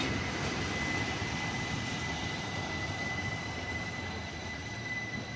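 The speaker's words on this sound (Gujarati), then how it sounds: "અને જો અત્યારે આવી ગઈ આ ટ્રેન. ગોલ્ડન પાસ ટ્રેન છે આ." Golden Pass panoramic train pulling into a station in Switzerland, heard as a steady, continuous rumble with a faint high whine throughout, no voices.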